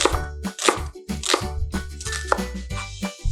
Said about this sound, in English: I'm slicing my onions